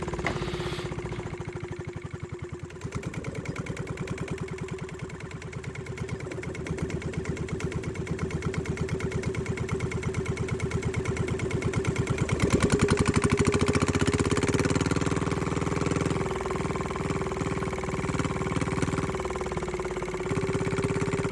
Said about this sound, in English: I was just playing around with the throttle a bit and seeing kind of where I want the idle adjustment set to.